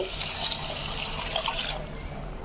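Water, including water from ground peas, pours steadily into a vessel of rice, a close, continuous splashing rush that stops near the end.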